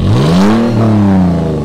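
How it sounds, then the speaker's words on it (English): Toyota 4Runner with the stock TRD cat-back exhaust, warmed up, revving once: a loud, close rise in engine pitch that peaks and eases back down, with no one talking. "this is the TRD cat-back exhaust"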